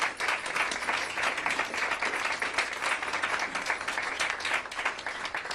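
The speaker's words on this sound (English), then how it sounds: "please give them a round of applause for their bravery for being here." Sustained, dense audience applause fills an exhibition event honoring survivors of the Nova music festival attack, a steady wash of many hands clapping at once with no pause.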